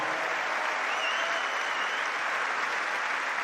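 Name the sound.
audience applause on Centre Court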